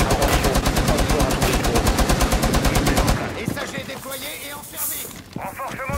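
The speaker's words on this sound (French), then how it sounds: "Attention mitrailleuse." Rapid machine gun fire rattles in Rainbow Six Siege, a loud continuous burst of evenly spaced shots for about three seconds, then sparser game sounds and impacts follow.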